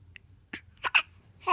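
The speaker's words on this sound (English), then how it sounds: "Hiccups." A four-day-old newborn hiccups in a few short, soft bursts mixed with small voiced squeaks, close and quiet.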